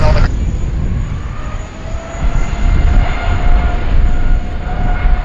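An Aircalin Airbus A330neo at Sydney Airport gives a loud, steady jet-engine roar with a broad rumbling low end, heard from a distance and sustained throughout.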